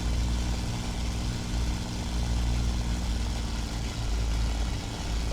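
Packard-style V-12 engines of a P-51 Mustang in War Thunder roar steadily at high power, a dense continuous drone that stays loud and unbroken throughout with no voices.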